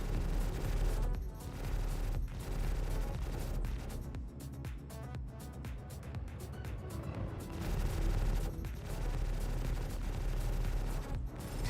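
Small ship-mounted guns fire in the space game Star Citizen, a dense, sustained rattle of rapid shots with short pauses, fairly loud and continuous with no talking over it.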